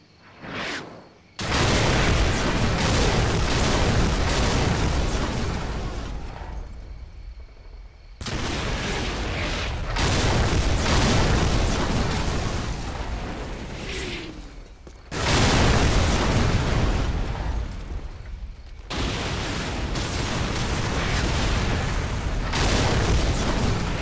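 Artillery fire-mission explosions from Call of Duty MW come as a series of loud, sustained booming blasts in about four long bursts with short gaps between them.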